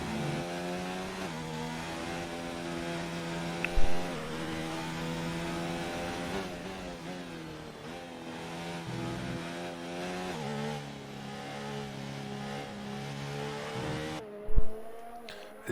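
Racing car engine from an Xbox racing game on a wet track, a steady harmonic drone with shifting pitch as the car slides, a couple of brief knocks near the end, no talk.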